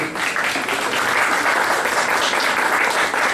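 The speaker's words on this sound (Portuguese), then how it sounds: "salva de palmas para a Lu" Loud, dense audience applause for a guest called up at an evening entrepreneurship talk, a steady roar of many clapping hands that holds throughout, close and filling the room.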